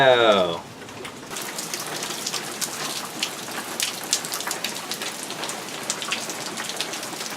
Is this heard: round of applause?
no